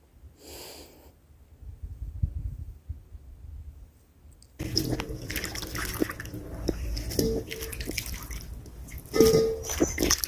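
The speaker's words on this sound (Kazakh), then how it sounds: "Жайлап жуып, екінші ыдысқа салып алуымыз керек." Cherries being gently washed by hand in a bowl of water make quiet sloshing, dripping and splashing sounds with light clicks, close by, after a brief near-silent pause.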